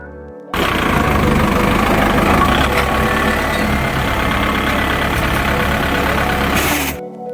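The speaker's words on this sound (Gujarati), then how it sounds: "આપણે ટ્રેક્ટર કામ કરતા ચાલુ થઈ ગયા છે" A heavy Kubota tractor engine rumbles steadily for several seconds, loud and close, then cuts off abruptly near the end.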